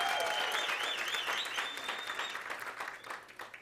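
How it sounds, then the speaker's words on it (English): An audience at a gala dinner gives a government minister a round of applause, a warm sustained wash of clapping that gradually fades, with a faint tone ringing in the background. "Give her a round of applause."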